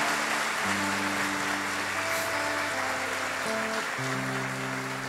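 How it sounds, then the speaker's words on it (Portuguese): A church congregation at Mass claps steadily while sustained keyboard or organ chords play over it, the applause forming a continuous bright hiss beneath the music. "Então dá uma salva de palmas para o nosso Senhor Jesus Cristo"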